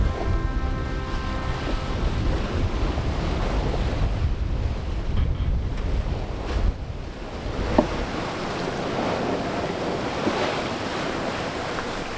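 Steady wind roars across the microphone while ocean waves wash around a sailboat at sea as her sails fill, a loud continuous rush with no voices.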